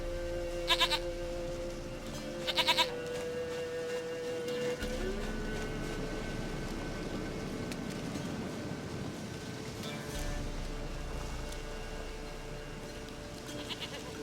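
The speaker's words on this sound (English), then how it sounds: "Goat of mine, dearest, sweetest goat." Goat bleating in the video game The Witcher 3, two short, close, wavering bleats early on, then a steady ambient game soundscape continues with no further calls.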